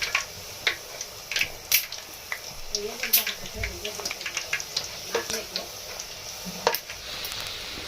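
Puri frying in hot oil at home, a soft steady sizzle with scattered clicks and utensil taps as the dough is stirred and turned, quiet and close, with people chatting nearby.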